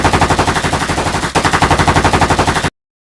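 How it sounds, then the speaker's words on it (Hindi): Indiscriminate automatic gunfire in a Hindi sci-fi time-travel drama: a loud, rapid, continuous burst of shots with a very brief dip midway, then an abrupt stop. "वो लोग अंधाधुंध गोलियां चला देते हैं"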